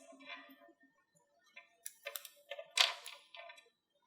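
Scissors snipping sewing threads while making a 3D mask from a template: a few quiet, crisp clicks and snips, clustered in the second half, with near-silence between them.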